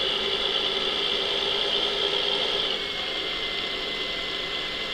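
A tractor engine in Farming Simulator 2013 drones at a steady, loud idle-like hum with a slight drop in level partway through, continuous and without talk.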